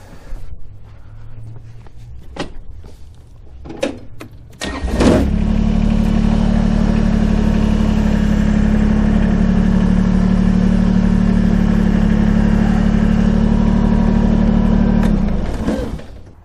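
A Kubota BX23s compact tractor with an LA340 loader starts its engine after a few clicks and knocks, then runs at a steady loud idle close by before cutting off near the end, with no talk.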